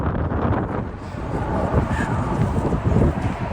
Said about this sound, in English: It's windy up in these hills.